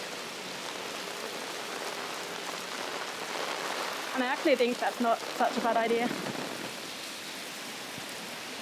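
Heavy rain pours steadily on North Bridge Road in a city as a steady, dense hiss from start to finish, with a person talking briefly partway through over the downpour.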